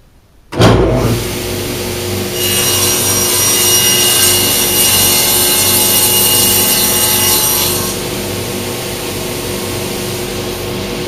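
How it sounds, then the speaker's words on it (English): Table saw cutting a melamine panel edge: a loud motor whine starts abruptly, then a harsher, brighter cutting tone runs for about five seconds before settling back to the spinning blade alone. "I've scarred that edge through the table saw"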